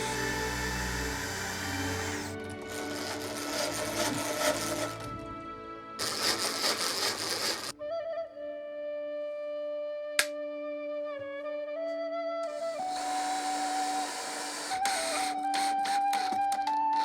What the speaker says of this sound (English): I'm just going to straight screw them because that's all they should need to hold this together